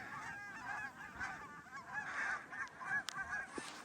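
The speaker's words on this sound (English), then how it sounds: "So I just jumped all those geese in this hole right here on the lake" A flock of geese honking steadily on a snowy lake during a public-land duck hunt, many overlapping calls at a moderate distance with no talk.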